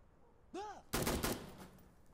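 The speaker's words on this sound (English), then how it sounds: "Why aren't these guys dying when I shoot them right in the head?" Gunfire in the video game Insurgency: Sandstorm: a short whooshing sweep, then a loud close burst of several rapid shots that rings off and decays.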